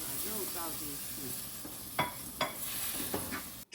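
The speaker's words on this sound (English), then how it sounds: "Then add the pan-seared meat and stir fry again." Pan-seared pork is stir-fried with vegetables, pineapple and sauce for sweet and sour pork, giving a soft, steady sizzle and hiss broken by a few sharp scrapes and knocks of the utensil against the pan.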